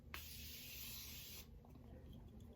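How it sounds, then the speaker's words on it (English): A short burst of makeup setting spray hisses close by for about a second as it is sprayed over the face, then stops, leaving quiet room noise. "put a little bit more setting spray all over the face"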